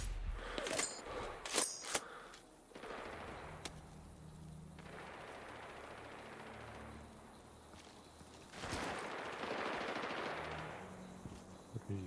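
Sniper Ghost Warrior Contracts 2 gunfire: a few sharp, loud shots crack near the start, then the game's ambient noise and faint movement sounds continue without talk.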